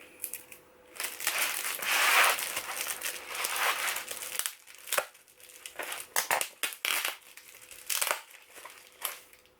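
Mailed Christmas parcel torn open by hand, with loud close crinkling and crushing of packaging and foam wrapping in bursts, fading to intermittent rustles and crackles near the end.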